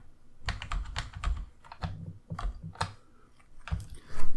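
Fingers type a username and password for a home alarm system account on a computer keyboard, close up: irregular bursts of quick clicking keystrokes with short pauses between them, and a louder clack near the end.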